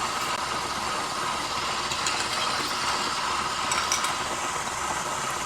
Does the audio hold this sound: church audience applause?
no